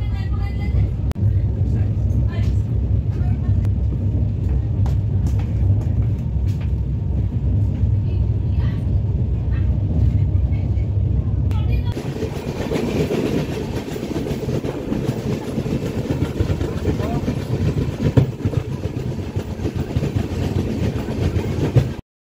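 The Tinsukia–Tambaram Express pulls into Harmoti Junction, a loud steady rolling rumble of carriages and wheels on rails heard up close, shifting to a brighter, hissier tone partway through as the train slows.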